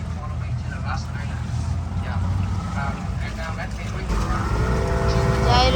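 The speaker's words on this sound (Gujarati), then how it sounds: "Yamaha નું એન્જિન છે ભાઈ." A Yamaha outboard boat engine runs with a steady drone that grows louder near the end as it picks up speed, while people talk over it.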